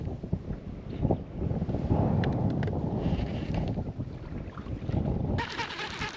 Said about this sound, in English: the wind's just blowing so hard